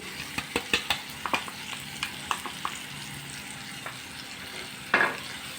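A spoon stirs spice masala into a dry potato and capsicum sabzi frying in a pan, giving a string of light scraping taps over a soft, steady sizzle.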